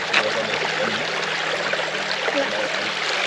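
Water rushes and babbles steadily over rocks in a cold mountain stream near Caumasee, a continuous broadband flow with no talking, close and fairly loud throughout.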